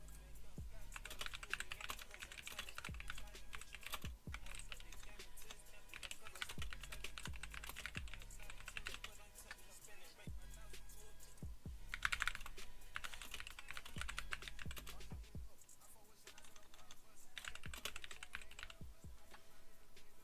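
Rapid typing on a computer keyboard runs close and continuous, with dense clicking keystrokes and brief pauses, fairly quiet overall.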